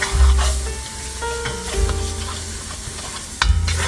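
Shrimp étouffée sauce with diced bell pepper is stirred in a hot pan, a spoon scraping and knocking against the pot over a steady sizzle, close and fairly loud, with no voices.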